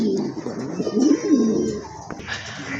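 Loud, close pigeon cooing in repeated low rolling phrases, swelling in the middle, followed by a brief knock and quieter background.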